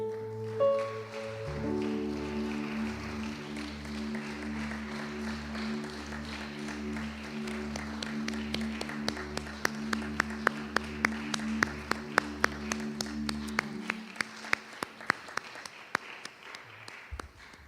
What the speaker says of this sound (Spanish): Dale un aplauso, iglesia.